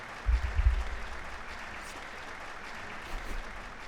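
Looped crowd applause effect from the Trails of Cold Steel video game, a steady, uniform wash of clapping with a low thump near the start, playing on its own.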